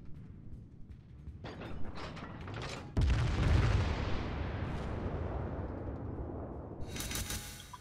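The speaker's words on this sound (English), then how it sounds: "I should have enough time for one more broadside on this Fuso" A naval broadside in World of Warships strikes the battleship Fuso: faint distant reports, then a sudden heavy boom with a long rumbling roar fading into ship noise, and a sharp hiss near the end.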